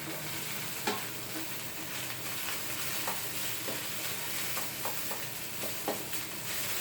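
Rice stir-fried in a pan for vegetarian fried rice, a dense continuous sizzle with soft scraping stirs scattered through it, close and fairly loud, no voices.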